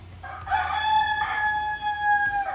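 A rooster crows once, loud and close, a long drawn-out cock-a-doodle-doo over faint background noise, with no talk.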